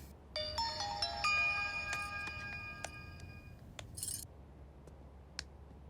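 A mobile phone ringtone plays a bright, repeating electronic melody for about three seconds, followed by a few clicks and a short burst of rustling.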